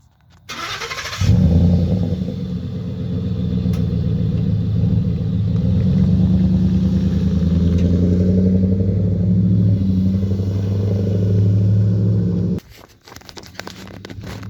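A Ford F-150 pickup truck engine starts with a quick crank and catches, then settles into a loud, steady low rumble as the truck pulls away, cutting off abruptly near the end.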